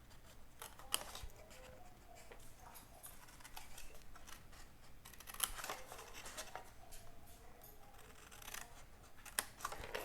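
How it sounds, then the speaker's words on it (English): Scissors snip up vertical score lines on a paper gift box, a steady run of quiet, close crisp cuts with brief louder snips. "So I'm going to cut from the base all the way up to the 1 1/4 inch scoring line."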